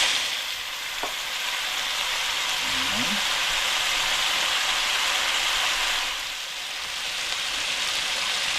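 Fish bagoong hisses in a hot frying pan with a steady, close sizzle, a faint clink of a utensil early on and a soft voice-like murmur partway through.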